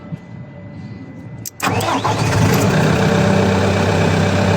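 A TR340B skid loader's engine cranks and catches abruptly partway through, after a quieter start, then settles into a loud, steady, rumbling idle that fills the remainder.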